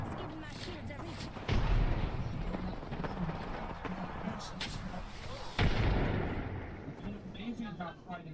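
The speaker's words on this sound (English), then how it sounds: "Look out, grenade. Frag out." Explosion and gunfire in a first-person shooter video game: two heavy booming blasts amid dense rattling shots, with players talking over the chaotic battle.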